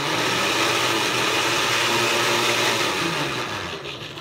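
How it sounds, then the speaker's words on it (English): An electric blender roars steadily as it blends watermelon chunks for agua fresca, a loud continuous whir that eases slightly near the end, with no talk. "This is a newer blender."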